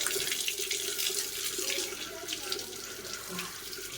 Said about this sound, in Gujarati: હાથ બધું ધોઈ દેવાનું ડાયરેક્ટ પાણી